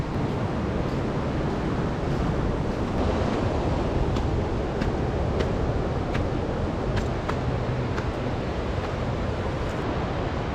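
Surf rolls onto Samurai Beach in Tomaree National Park, Australia, a loud, continuous wash of breaking waves mixed with wind buffeting the microphone, with faint clicks scattered over it.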